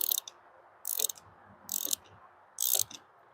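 A ratchet wrench clicks in four short bursts while tightening the negative battery terminal on a 1975 Mustang II, close and fairly quiet over a low background hum.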